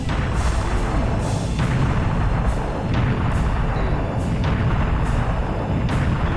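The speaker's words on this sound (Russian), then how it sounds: "Давай из пушки." Repeated heavy cannon blasts in the video game Serious Sam: The First Encounter boom at a steady pace, about eight shots, each a sharp burst over a constant rumbling background.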